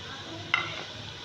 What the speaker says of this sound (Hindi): लहसुन अदरक का पेस्ट डालने के बाद हम इसमें 2 अदर टमाटर डालेंगे